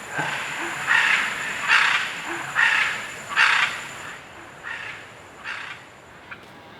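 Scarlet macaws in the Costa Rican jungle give a series of about eight harsh, piercing squawks at a steady pace, moderately distant over a faint hiss of jungle background.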